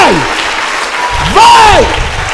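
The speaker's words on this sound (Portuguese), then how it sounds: "uma salva de palmas para o Senhor" Church congregation applause during a Portuguese-language service, a steady wash of clapping beneath a loud, sliding shouted voice from the preacher.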